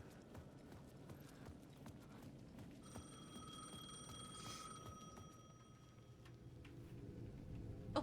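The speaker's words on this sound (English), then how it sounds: "The payphone at the edge of the plaza was ringing again." A payphone in the video game Alan Wake II rings with a steady electronic trill midway through, over a quiet background of soft repetitive clicking.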